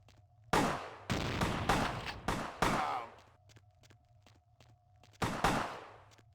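Gunshots in the video game Vampire: the Masquerade Bloodlines: a burst of five loud, sharp shots in quick succession, then a pause with faint ticking, then one more loud shot near the end, each with a short decaying tail.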